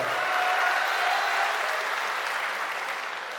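Audience clapping at a mushaira poetry night, a dense, loud burst of applause from a large crowd that holds steady and then tapers slightly, with no voices over it.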